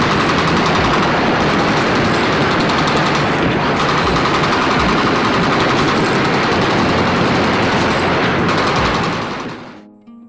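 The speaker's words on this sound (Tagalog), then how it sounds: "Maging ang kanilang bangka ay winasak ng baril ng army." Sustained, dense army gunfire aimed at a pirate boat rattles continuously for several seconds, loud and close, then cuts off abruptly at the end.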